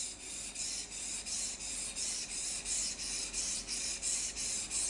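A Japanese kitchen knife is stroked back and forth on a water stone without a guide rail. About a dozen steady, even rasping passes repeat in a close, regular rhythm, with no voices.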